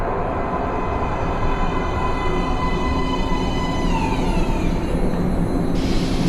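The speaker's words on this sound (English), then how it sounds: "Please step away from the edge of the platform. Train coming in." Subway train rolling into a station platform in the game Metro: Last Light, a steady loud rumble of wheels on rails with a rising and falling metallic screech of brakes as it slows, continuous for several seconds.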